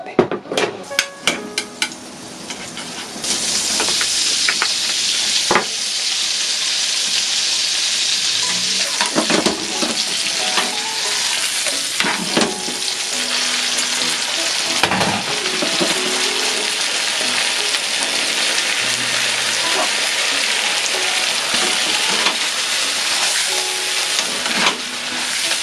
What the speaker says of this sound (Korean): 마지막으로 시금치 콘 버터 볶음을 하겠습니다